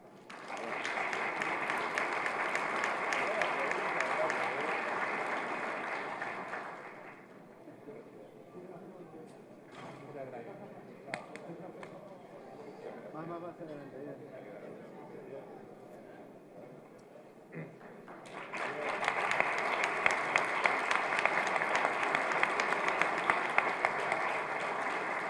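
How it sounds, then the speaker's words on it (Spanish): Audience applause at a foundation anniversary event, a broad wash of clapping at the start that stops while a voice speaks through the middle, then swells back up again toward the end. "Un aplauso."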